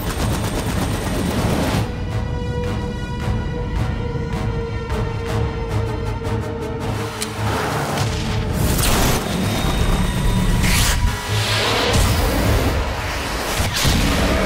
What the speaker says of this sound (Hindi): बहुत बड़ा धमाका हुआ है